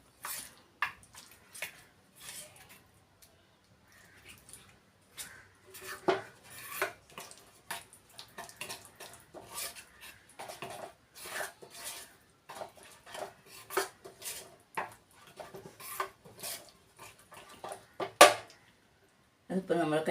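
A face paste stirred in a small bowl makes repeated light clinks and scrapes against its sides in uneven bursts, close and fairly quiet, with no talking over it.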